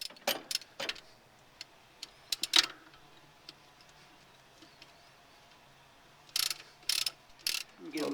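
Screws backed out of a car's clutch pressure plate with the transmission dropped, giving a few scattered ratchet clicks and metallic ticks in sharp bursts near the start and end, fairly faint, with quieter gaps between.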